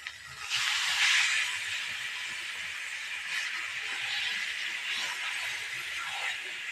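Spiced boiled taro stirred and frying in a pan, a steady broad sizzle that swells early then holds level, close and alone.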